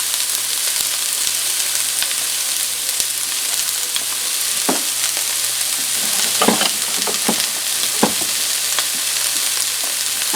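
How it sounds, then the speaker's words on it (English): Vegetables frying in oil in a hot pan on the stove give a steady, close sizzle, broken by a few sharper crackles and stirring scrapes, with no talking. "I want to go ahead and get some vegetables cooking before we start on the sauce itself."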